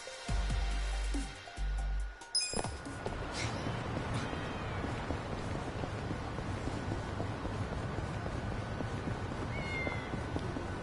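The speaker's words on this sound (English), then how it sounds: "I hear a cat." A cat in the video game Yakuza: Like a Dragon meows a few times near the start, short clear calls followed by steady background wind-like ambience, with no talking over it.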